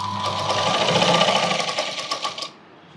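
Sewing machine stitching baby frock fabric, layering a larger piece with a smaller one on top, running steadily at close range with a rapid rattling whir that stops abruptly near the end.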